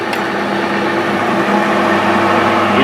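An engine fitted with a Rochester two-barrel carburetor runs steadily, its droning mid-low hum with a tonal whine building slightly louder as it accelerates, close and without talk.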